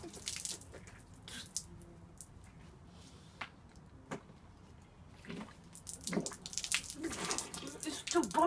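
Coke and Mentos fizz and bubble in a soda bottle, a soft, faint crackling hiss broken by sporadic louder splashes and drips, with quiet voices nearby.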